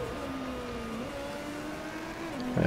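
Race car engine in the Motorsport Manager video game, a steady faint drone that holds pitch, dips slightly midway and rises near the end, with a brief louder burst at the very end.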